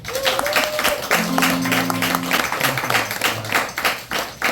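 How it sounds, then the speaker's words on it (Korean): Audience applause at a small forum gathering, rhythmic clapping pulsing in steady beats with some voices and a faint tone underneath. "박수 한 번 주세요"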